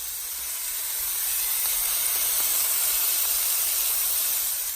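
Garlic steak bites searing in a hot pan give a steady, loud, bright sizzling hiss that swells slightly and holds without pause, close up.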